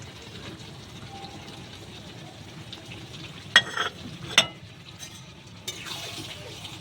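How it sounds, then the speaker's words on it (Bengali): Fried prawns mixed with yogurt are stirred in a pan over a soft steady sizzle, with a couple of sharp utensil clinks against the pan partway through and quieter scraping after. "আবার একটু নেড়ে দিচ্ছি।"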